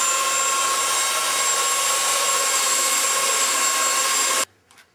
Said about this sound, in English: So I'm kind of smoothing out just a bit with the belt sander.